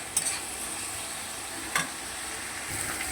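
Tomato and onion masala sautéing in a pan, a continuous close sizzle with two sharp utensil scrapes or clinks as the mixture is stirred.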